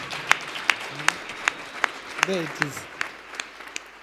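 A church congregation claps hands at a prophet's service, sparse sharp claps in a loose, slowing rhythm while someone speaks and exclaims over them.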